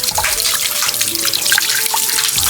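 Water pours steadily from the spout of a carved Basavanna bull statue at the Antaragange spring shrine, a close, continuous splashing gush with no voices.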